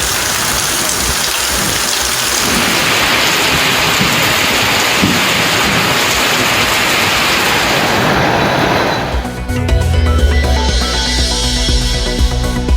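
Steady rain pours down in Coimbatore, a dense, even patter on surfaces that shifts partway through to a deeper rumbling wash mixed with other mechanical background noise; no one speaks.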